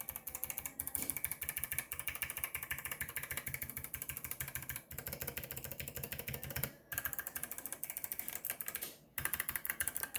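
Fingers type steadily on a Planck keyboard fitted with a custom silicone dampener, producing rapid, even key clicks in a quiet, fairly faint stream with a few short pauses and no voices.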